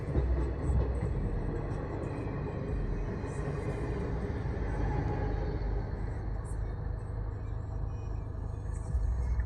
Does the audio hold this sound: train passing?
yes